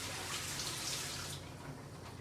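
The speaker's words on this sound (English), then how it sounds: "I'm going to dump some of the water out." Water pours and splashes out of a pot of frozen yuca in a continuous, close rush that eases slightly toward the end.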